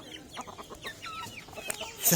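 A brown broody hen sitting on eggs clucks in short, quiet, repeated notes nearby, with a sharper rustle or squawk right at the end.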